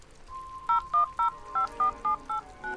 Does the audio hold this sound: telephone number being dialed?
yes